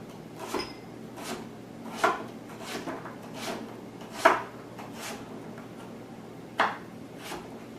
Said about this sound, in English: And then chop it in slices.